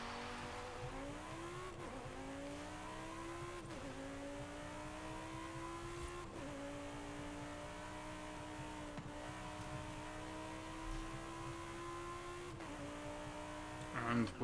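A car revving through repeated gear shifts in the racing video game Forza Horizon 5, the engine pitch climbing and dropping in steady cycles, close and continuous, with a voice talking over it.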